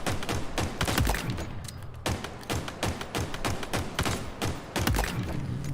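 Rapid pistol fire in Halo Infinite, a loud close burst of sharp repeated shots in quick clusters with brief pauses between volleys.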